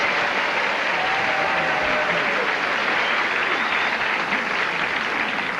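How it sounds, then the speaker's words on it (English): A 1975 Match Game studio audience on CBS daytime gives steady, dense applause that stays loud and even from start to finish, with no talking. "The audience is applauding Bone."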